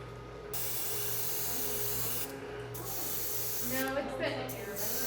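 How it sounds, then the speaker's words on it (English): Airbrush spraying colored cocoa butter into a chocolate mold, a steady close hiss running in bursts with brief pauses, while people talk nearby. "it's the airbrush"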